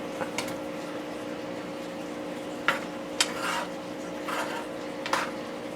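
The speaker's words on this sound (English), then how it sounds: "We're just going to stir this up a little bit." A utensil stirs chicken marsala in a pan, making faint rubbing and scraping sounds with a few sharp clinks against the metal. A steady low hum runs underneath, and there is no talk.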